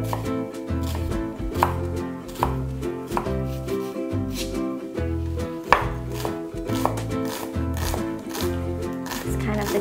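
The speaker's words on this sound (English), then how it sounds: "you need to chop it quite finely just for it to mix really well with the pork mince" A knife chops shallots finely for a pork mince dish, rapid rhythmic taps on a cutting board heard close over faint background music.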